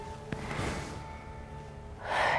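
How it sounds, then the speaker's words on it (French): Breathing in and out during a yoga session for the nervous system, with a soft airy breath building to a louder, rushing exhale near the end, close and alone without speech. "Écoutez bien le son de votre respiration."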